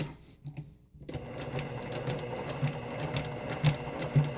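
A sewing machine stitches lace onto a cross stitch pillow, its needle clattering in a steady rapid rhythm after a brief quiet start, close and fairly loud with no talk.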